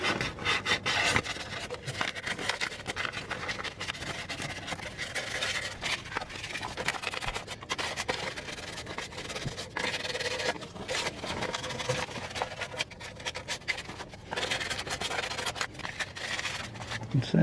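Abrasive rubbing on a corroded steel brake pipe, a continuous scratchy rasping made of quick irregular strokes, close and fairly quiet, with faint talk now and then.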